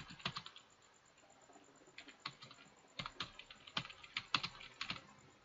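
Fingers typing text on a computer keyboard, heard close and fairly quiet as irregular bursts of light key clicks with short pauses between them, with no voices present.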